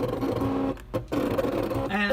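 A Cricut Expression machine cutting embellishments, giving a steady mechanical whir and rattle with a brief pause partway through before the motor resumes.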